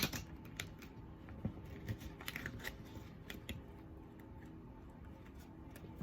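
Tarot cards with silver-bordered edges being shuffled close up, giving soft crisp riffling and tapping textures in a quiet room, with no talking.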